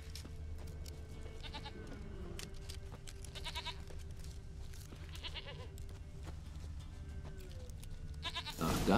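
A goat bleats three or four times at intervals in the video game The Witcher 3: Wild Hunt, over a low, steady background hum, its calls fairly quiet and somewhat distant.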